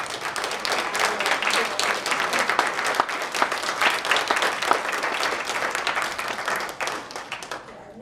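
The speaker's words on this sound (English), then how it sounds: "take a few seconds, a minute to applaud for Ed" An audience at a program event applauds warmly, a dense sustained wash of clapping that holds steady for several seconds before tapering off at the end.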